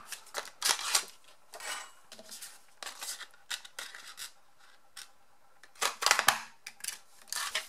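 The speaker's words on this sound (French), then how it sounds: "Je vais découper cette forme dans mon papier métallisé ainsi que dans mon papier" Repeated crisp cutting and snipping through metallic paper during a paper craft project, in short irregular bursts with quiet gaps, close-up with no voices.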